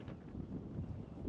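Strong wind on a mountain summit 1,700 meters above sea level, a low buffeting roar battering the microphone in continuous gusts, fairly faint overall.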